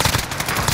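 A short, loud burst of rapid automatic gunfire from a Call of Duty Warzone firefight, close up and dense with overlapping shots.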